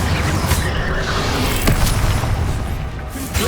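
Confringo blast spells exploding in Hogwarts Legacy: a loud, dense wall of booming, crackling blast noise with a sharper crack partway through, continuous and close.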